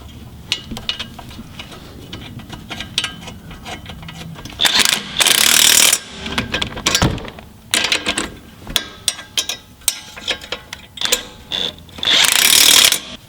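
Impact gun tightening strut nuts on a Ford Fiesta ST, heard as two loud sustained bursts of whirring hammering, separated by softer clicks and clatter of tools.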